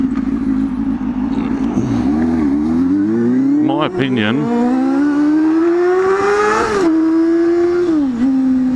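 A learner motorcycle engine revs loud and close, its buzzy pitch rising and falling and then climbing in a long steady pull, while someone talks briefly over it.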